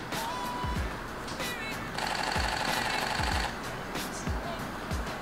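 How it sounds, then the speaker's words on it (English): Canon EOS R6 firing its high-speed continuous shutter: bursts of rapid, fairly quiet mechanical clicks repeating in quick succession, with a sustained burst in the middle. "And listen to this R6."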